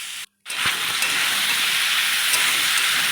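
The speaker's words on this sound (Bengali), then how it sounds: "এভাবে সুন্দর করে একটু কষিয়ে নেব।" Ripe tomato and unpeeled potatoes sautéing in a pan for a potato curry, giving a loud, steady hiss of frying after a brief silence at the start, with a faint utensil tap.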